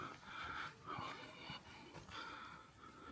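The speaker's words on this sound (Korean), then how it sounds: "숨을 너무 헐떡여가지고 숨소리가." Heavy, rhythmic panting breaths come from someone who has just climbed long stairs on a very hot day near Kotohira shrine in Kagawa, Japan; the gasps are close, repeated roughly every half second, and fairly soft.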